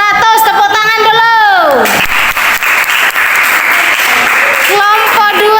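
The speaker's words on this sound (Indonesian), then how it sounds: "Kelompok 1 mendapatkan nilai 400. Tepuk tangan dulu." Loud classroom applause for group 1 during an eighth-grade quiz contest, many students clapping together and steadily throughout, with voices and cheering mixed in.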